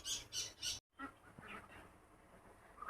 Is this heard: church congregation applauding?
no